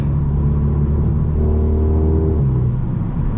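Steady low engine hum from a Mk7.5 Volkswagen Golf GTI cruising in sixth gear, a smooth droning rumble with faint road noise and no voices.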